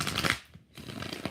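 Tarot cards are shuffled by hand, two quick riffling bursts separated by a brief pause, close and crisp.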